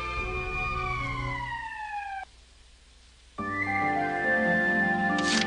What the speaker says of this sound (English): That's the emergency siren.